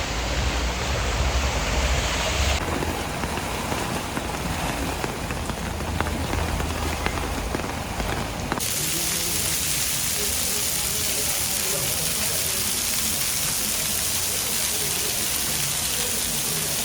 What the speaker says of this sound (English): tad rainy out